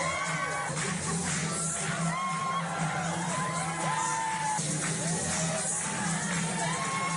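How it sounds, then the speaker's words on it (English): A crowd of people cheering, whooping and hooting at a local government gathering, with lively overlapping shouts and rising calls, steady and fairly distant. "They're cheering and hooting and hollering"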